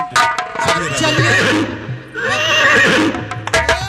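A horse whinnies loudly and close by in two long neighing bursts, with faint hoof clip-clops and some background voices around it.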